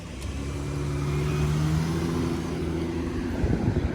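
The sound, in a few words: car driving past on a street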